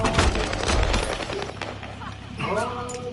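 Gunfire in the Call of Duty Warzone video game, heavy rapid bursts of automatic fire up front fading into scattered shots, with game voice lines over the end.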